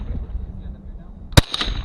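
A single sharp rifle shot fired at stickers on a target, loud and close, standing out abruptly after quiet background noise, with a short echoing tail.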